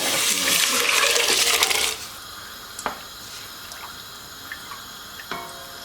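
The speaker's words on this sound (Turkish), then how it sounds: "Ve şimdi etimizle nohudu da suyuyla beraber ilave ediyorum." Meat and chickpeas poured with their liquid into a soup pot, a loud splashing rush for about two seconds, then quiet with a few small clinks and taps of the pot.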